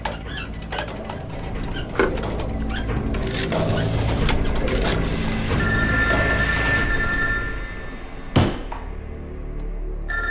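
A telephone rings after a number is dialled in a Chinese period spy drama set in Peking, its electric bell tones sounding mid-scene among clicks and thunks, close and clear.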